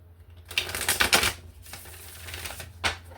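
A deck of tarot cards being shuffled by hand, a rapid burst of crisp riffling clicks followed by quieter shuffling and a final short flick, close to the ear.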